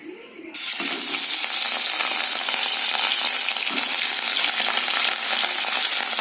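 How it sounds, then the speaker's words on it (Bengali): Pieces of rohu fish, rubbed with turmeric, are slipped into hot oil, and after a brief quiet moment a loud, sudden sizzle bursts up and keeps roaring steadily, with a faint tap partway through. "আমি এবার মাছগুলো একে একে তেলে ছাড়বো"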